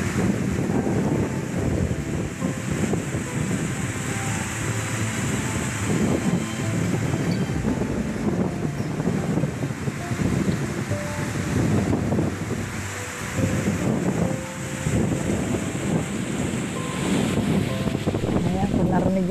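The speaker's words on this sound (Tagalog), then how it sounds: "Lakas ng hangin." Strong wind gusting by the sea with waves breaking on the shore, a loud constant roar and buffeting against the microphone, with occasional faint speech underneath.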